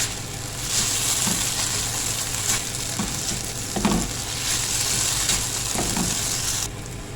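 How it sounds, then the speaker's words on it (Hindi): Fried nuts being stirred into sweet vermicelli in a hot pan, with a constant loud sizzle and periodic scraping stirs of a spoon against the pan, close up and without talk. "अब जो नट्स हमने फ्राई किए थे वो आधे इसमें डाल देंगे इस टाइम पे और अच्छे से मिक्स कर लेंगे इसको"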